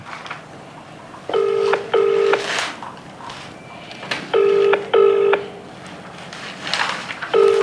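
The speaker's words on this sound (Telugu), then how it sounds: "రింగ్ అవుతుంది." A call's ringback tone repeats in paired bursts, two rings, a pause, then two more, with a third pair starting, steady and clear over a low background hiss.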